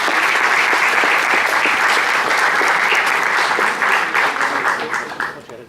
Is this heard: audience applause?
yes